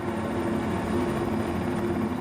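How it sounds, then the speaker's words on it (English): Steady, close helicopter rotor and engine drone, a continuous low throbbing roar with no voices. "The helicopter suddenly spins out of control and plummets to the ground."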